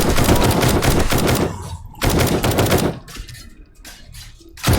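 Rapid bursts of gunfire in the video game 7 Days to Die during a horde night, loud automatic volleys separated by short pauses, ending with another burst.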